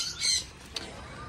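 A single harsh squawk from a pigeon rings out close by, followed by a short rustle that could be wing movement, all within about a second.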